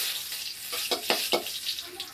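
A tempering of dry chilli, bay leaf and panch phoron stirred in hot oil, a bright continuous sizzle with three or four quick spoon scrapes in the middle, close and loud.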